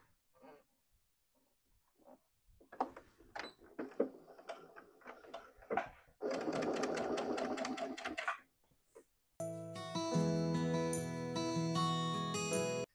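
Sewing machine stitching a seam on a wallet, running in two sustained loud bursts of rapid even stitching after a stretch of quiet handling clicks and small taps.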